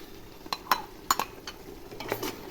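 Ground paste poured into mutton biryani masala cooking in a pot, heard as a few sharp metallic clinks and scrapes of a spoon against the vessel over a faint, quiet sizzle.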